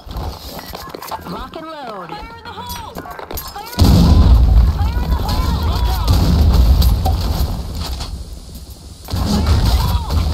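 Grenade explosion in BlackShot, a loud low blast hitting suddenly midway and rumbling on, with a second heavy impact near the end, while in-game voices talk beforehand and throughout.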